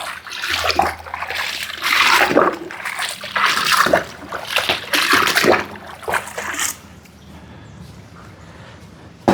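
Water sloshing and splashing as flower bath water is stirred for a vehicle ritual, in uneven bursts for about seven seconds before dropping to a quieter trickle.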